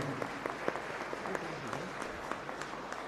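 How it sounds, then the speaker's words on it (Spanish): Scattered applause from a small group at a church Mass, uneven claps pattering for a few seconds at moderate distance, with a voice faintly underneath. "un fuerte aplauso"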